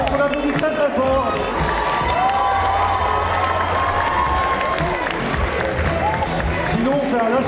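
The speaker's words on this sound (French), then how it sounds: "c'est maintenant qu'on lève les bras et qu'on applaudit très très fort" Audience at a cosplay contest cheering and clapping loudly, with dense shouting and whoops over continuous applause from a large crowd throughout.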